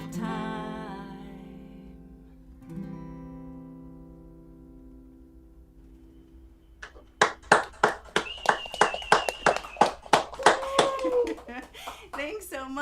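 A sustained sung note fades out, then a small audience at a studio showcase breaks into brisk, close clapping that is mixed with overlapping voices.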